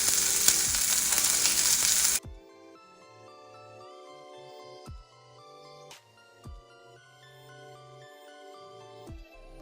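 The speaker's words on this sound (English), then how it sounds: "I'm gonna add some minced garlic because I love garlic, so we're gonna do that. Cook this real quick." Minced garlic hits a hot pan and sizzles loudly and close for about two seconds, then the frying cuts off abruptly and soft chiming tones ring out over near silence.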